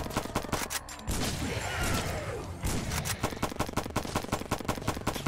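Rapid gunfire from the Pain Train video game crackles in dense bursts and repeated machine-gun shots, loud and close throughout, with a voice talking over it.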